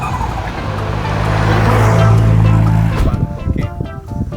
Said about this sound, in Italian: Perché c'è una macchina.